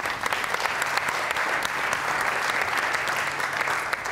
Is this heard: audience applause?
yes